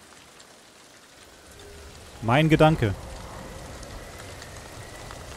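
Soft, steady rain hiss runs in the background of the video game Ghost of Tsushima, faint and continuous, while someone speaks briefly over it midway.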